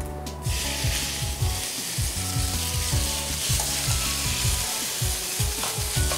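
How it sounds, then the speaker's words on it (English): Pasta being stirred through garlic oil in a pot over lowered heat, with a continuous sizzle and steady, rhythmic scraping strokes, close and fairly loud. "Give it a good stir"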